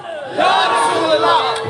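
A crowd at a Shab-e-Barat religious gathering raises a loud, unified chant that swells after a brief moment and carries on strongly, with a voice leading the slogans.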